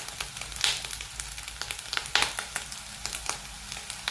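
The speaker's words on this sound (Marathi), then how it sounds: "आपण हे गोळे अशा पद्धतीनं अगदी पॅनमध्ये भाजून घेत आहोत" Fasting dough balls roast in a pan, giving a soft crackling sizzle dotted with irregular quick pops and small scraping ticks, close and fairly quiet with no voices.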